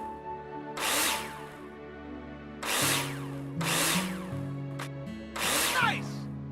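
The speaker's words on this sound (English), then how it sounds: "Take your drill out and screw them in." In the Builder Simulator video game, a power drill drives screws into plasterboard in four short whirring bursts separated by brief pauses, close and clear.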